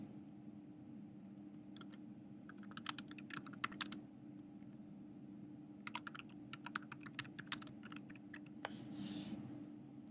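Fingers type on a computer keyboard to enter a calendar event's name, producing quick bursts of close, crisp key clicks separated by short pauses over a steady low background hum.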